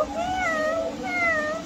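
A child imitates a cat, giving two drawn-out, wavering meows one after the other, close and fairly loud over a light background hum.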